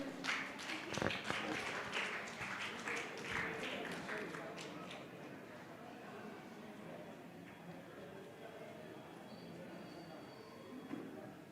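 An audience bursts into applause for a speaker introducing a drama at an evening church programme. The claps are loud and dense for about five seconds, then fade into a murmuring room.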